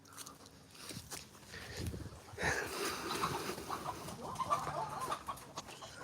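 Backyard chickens cluck and squawk in agitation as a dog startles them, a busy, moderately close flurry of hen calls over outdoor background noise.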